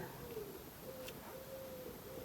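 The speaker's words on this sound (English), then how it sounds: "You hear the birds." Birds coo outdoors, a soft repeated low call drifting in and out against a steady background hiss, faint and fairly distant, with no one talking.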